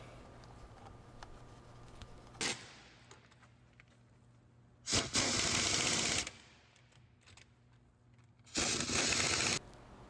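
Bolts being run down with a power tool on the rear axle of a 2012 Dodge RAM 1500 5.7L, three loud bursts of rattling impact-tool noise, short then two longer runs, separated by quiet workshop hum.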